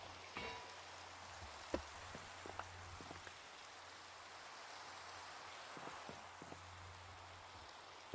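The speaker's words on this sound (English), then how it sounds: "Really wish it wasn't raining." Soft, steady patter of rain in Minecraft Java Edition, with a low hum underneath and a few scattered louder drips and taps.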